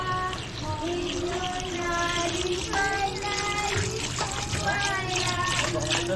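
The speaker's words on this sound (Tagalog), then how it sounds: "Lagyan natin ang tubig po mga bay." Water is poured into a cooking pot holding meat, a steady splashing and trickling flow heard close up over a background of low hum and whining tones.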